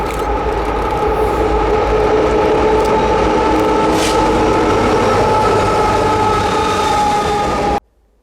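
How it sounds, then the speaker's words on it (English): A Kansas City Southern grain train led by an SD70ACE locomotive races loudly past on a curve, with a dense steady roar and rail rumble that cuts off abruptly near the end. "Here we see our grain racing over the curve at Blue Cut, milepost 353."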